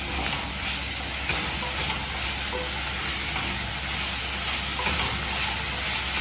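Mushrooms, corn and other vegetables sizzling steadily in a pan over a high flame while being stirred, a dense continuous hiss close to the listener with faint scraping and no voices.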